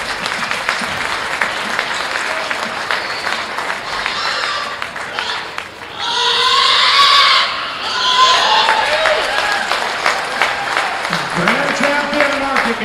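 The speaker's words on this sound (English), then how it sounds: "let's give these exhibitors a big round of applause" Crowd applauding exhibitors at a youth livestock expo market gilt show, sustained clapping and cheering with shouts, rising to a louder burst midway, with an announcer's voice and tones heard near the end.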